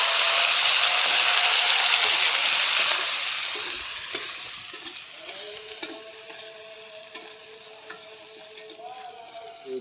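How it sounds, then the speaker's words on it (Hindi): Cauliflower sizzling in hot oil in a wok, loud bright frying hiss at first that gradually quiets, with occasional scrapes and clinks of stirring. "इसके बाद इसमें तेल डालते हैं और तेल के बाद गोभी को भूनते हैं।"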